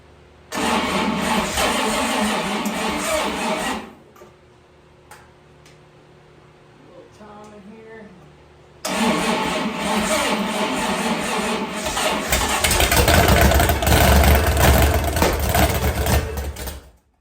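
Rebuilt OMC 460 boat engine cranks and fires, runs loudly for a few seconds, cuts out to a quiet stretch with faint clicks, then restarts and idles with a steady, rough, close-up roar that swells toward the end.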